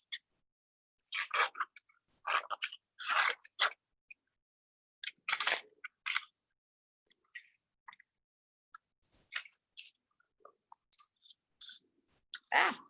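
Scissors snip tiny paper cutouts in short bursts of crisp clicking cuts, close and distinct, separated by pauses, with hardly any talk.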